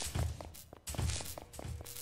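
Heavy footsteps in a horror video game set among destroyed Five Nights at Freddy's animatronics: a few dull thudding steps in two clustered bursts, fairly close and moderately loud, with no talking.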